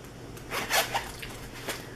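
A small wallet zipper pulls open with a rasp, a brief scratchy burst followed by a couple of smaller zips, close and fairly quiet.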